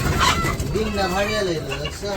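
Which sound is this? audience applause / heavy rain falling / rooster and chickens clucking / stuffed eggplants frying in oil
rooster and chickens clucking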